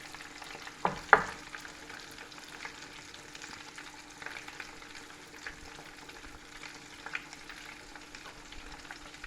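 Battered chickpea fritters fry quietly in a pan with a soft, steady sizzle, broken by a couple of sharp utensil clicks early on, close and without talk.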